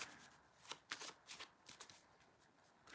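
Tarot cards being shuffled in short bursts, several quick crisp riffling flutters spaced irregularly, quiet and close, with no talk.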